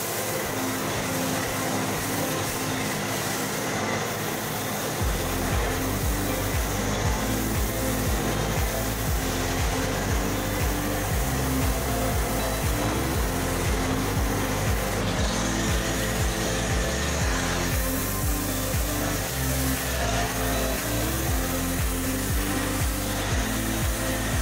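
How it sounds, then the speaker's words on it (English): A foam cannon sprays MAD detailing super glue soap over a Toyota Tacoma truck, producing a loud, continuous hissing spray with a machine hum. It starts abruptly after about five seconds of quieter noise and runs unbroken to the end, with no talking. "I'm foaming the entire vehicle down with our foam cannon and our MAD detailing super glue soap"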